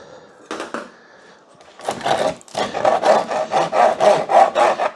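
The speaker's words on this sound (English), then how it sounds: "I can scrape that entire thing off" Wax is scraped off a wooden beehive frame in a series of rhythmic, raspy strokes, loud and close, after a few separate initial scrapes.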